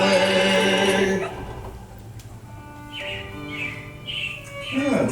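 Animatronic robins chirp in a short series of bright, fluttering calls during Disney's Carousel of Progress show at Magic Kingdom, after a stretch of music fades out.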